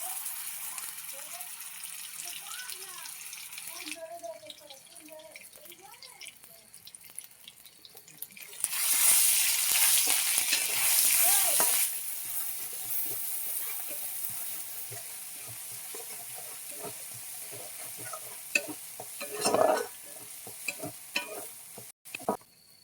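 A ground paste of ginger, garlic and onion goes into a hot pan for dal puri, raising a loud hiss that peaks briefly, then settles to a quieter sizzle with stirring scrapes and faint voices.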